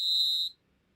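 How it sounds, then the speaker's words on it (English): A shrill electronic whistle tone from an app button on an iPad sounds once, loud and steady for about half a second, then cuts off abruptly into near silence. "I accidentally pressed the whistle button."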